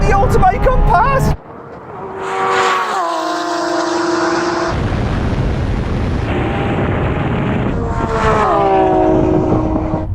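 A Lamborghini Aventador Ultimae and an SVJ race each other in a drag race, their V12 engines screaming loudly up through the gears as they pass close by, with a sharp cut at the start and a sustained roar of engines.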